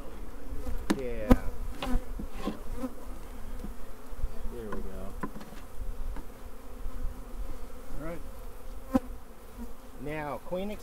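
Honey bees buzz in and around a nuc hive being opened in a homestead garden, a steady close hum with individual bees whining past in rising and falling sweeps, with faint voices now and then.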